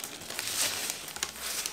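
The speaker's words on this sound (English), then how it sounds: "I just need to rip it." Paper wrapping is torn open from a cozy crime mystery book in a bookshop, making soft crinkles and a few quick rips close by, fairly faint.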